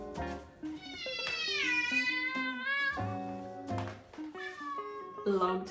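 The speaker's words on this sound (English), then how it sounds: "This is Ruth Ann, my cat." A domestic cat named Ruth Ann meows repeatedly up close, long drawn-out rising and falling cries in several bursts, with some talking around them.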